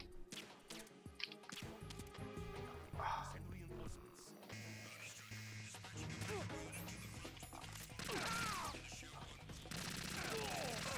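Shotgun blasts and gunfire in the video game Metal Gear Solid 2, a dense, loud barrage of booms and crashes layered with game music and effects throughout.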